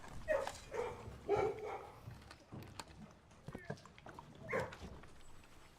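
A pet dog in a video game gives short barks and yaps in a few separate bursts, mixed with game effects and a person speaking.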